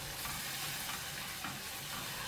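Onions stir-fried and softening in a pan, with a steady close sizzle and the scrape and clatter of stirring throughout, alone with no voices.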